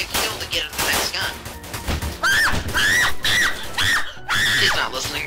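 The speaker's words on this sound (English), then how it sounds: "He's not listening. He's too busy screaming." A person screams repeatedly in high, wavering bursts while playing a gun game, the yells loud and close over rapid game gunfire and clattering sounds.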